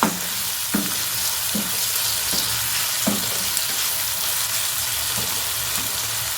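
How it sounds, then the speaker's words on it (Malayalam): Onions sautéing with salt in a pan give a loud, steady sizzle close by, broken by several soft periodic scrapes or stirs of the spoon, with no voices. "അപ്പോൾ ആ ഉള്ളിയൊക്കെ ഒന്ന് മൂക്കണ മണമൊക്കെ ഇങ്ങനെ വന്നു തുടങ്ങി"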